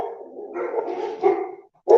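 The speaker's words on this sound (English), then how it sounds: "You all hear my dogs in the background." Several house dogs bark in short bursts somewhere behind a room, medium-near and moderately loud, the last bark arriving alone after a brief pause.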